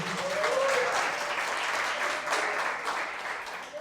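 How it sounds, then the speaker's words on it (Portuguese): A church congregation claps steadily and densely, a warm, sustained round of applause that swells slightly and then tapers near the end, with no talking over it. "Uma salva de palmas para o Senhor, amém?"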